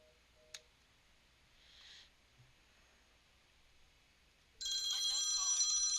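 A Cisco desk phone gives a steady, bright electronic ring tone that starts abruptly near the end, after quiet room tone and a faint click.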